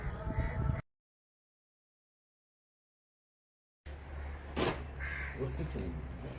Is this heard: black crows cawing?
yes